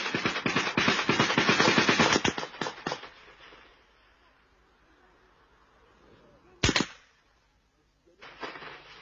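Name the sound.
gunfire during an ambush on soldiers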